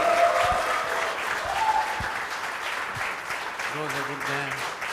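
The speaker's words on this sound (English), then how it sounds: "ladies and gentlemen, one more round of applause for an absolutely incredible final." Applause from an audience at the Maldives Open 2024 10-ball pool championship final, steady and sustained clapping filling the room, with some voices and a few brief tones mixed in.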